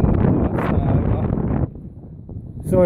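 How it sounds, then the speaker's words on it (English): Gusty wind on an abandoned sea fort buffets the microphone with a loud roar, easing briefly before surging again. "Sorry about the wind, people."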